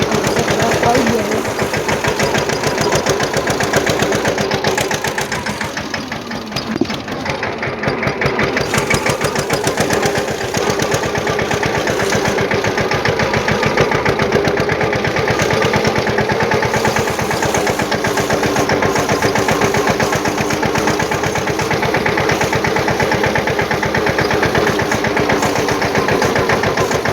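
A tractor engine idles in a steady, close mechanical chug, running evenly throughout with a brief dip partway and no speech over it.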